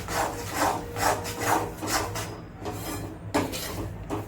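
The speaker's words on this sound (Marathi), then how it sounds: "त्याच्यात आपल्याला तिळाचं कूट नीट मिक्स करून घ्यायचं आणि तेही एकत्र मिळून भाजायचं" Roasting flour and ground sesame stirred together in a pan, a soft rhythmic scraping and rubbing of the spoon against the pan, repeated strokes about twice a second, quiet and close.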